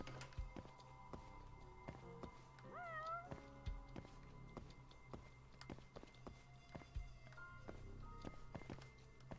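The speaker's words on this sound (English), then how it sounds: "Oh, there's a kitty. Where's the kitty?" A cat meows in the video game Judgment, a few short rising meows heard quietly over game ambience, with soft footsteps and occasional clicks scattered throughout.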